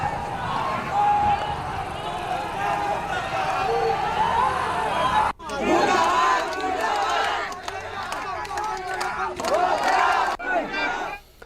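A large protest crowd shouts and clamors while a police officer tries to calm and address them, a dense, loud roar of many voices with a brief cut midway before the shouting resumes.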